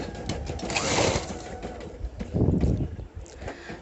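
A sewing machine stitches thread piping onto a blouse, its motor whirring in uneven bursts that swell and fade, fairly close with no talking.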